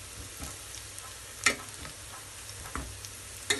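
Onions frying in a pan for egg biryani, a faint steady sizzle with a few brief clicks of stirring and utensil contact, no voices.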